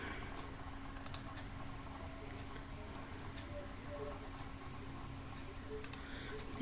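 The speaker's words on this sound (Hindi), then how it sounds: "एक बार हम इस लिंक को क्लिक करेंगे।" A computer mouse clicks a link, giving two faint, sharp clicks several seconds apart over a low background hum.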